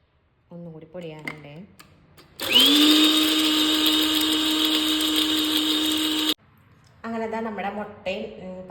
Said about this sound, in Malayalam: നമ്മുടെ കുരുമുളക് പൊടിക്കണം കേട്ടോ